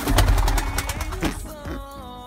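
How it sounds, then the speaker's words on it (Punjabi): A female high-flyer breeder pigeon gives soft, rolling coos at close range, starting loud and then fading, with a little speech nearby. "ਠੀਕ ਬੜੀ ਸ਼ਾਨਦਾਰ ਕਬੂਤਰੀ ਆ"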